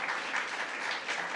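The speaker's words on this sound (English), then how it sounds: "Let's give her another round of applause." Audience applause at a governor's bill-signing event on human trafficking protections, a steady dense clapping wash from a crowd, sustained throughout.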